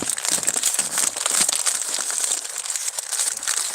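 Hot sandwich wrapper crinkled and handled up close, a continuous papery rustle with sharp crackles for several seconds and no talk over it.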